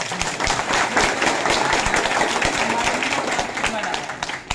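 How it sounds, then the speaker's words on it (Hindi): Applause from a gathered audience, a dense, steady patter of many hands clapping throughout, with a few sharper nearby claps standing out. "इसी गैनोडर्मा के लिए एक जोरदार ताली होनी चाहिए"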